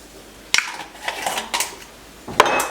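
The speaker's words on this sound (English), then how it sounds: "now we're going to pour our carrots into this pan" Carrots tipped into a cooking pan, giving sharp metallic clanks at the start and end with a brief rattling tumble in between, close and fairly loud.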